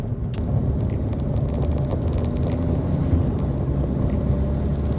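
Ford Fiesta Mk6 Zetec S with a TDCi diesel engine driving along, a steady low, truck-like engine drone and road rumble held at an even level, with no talk over it.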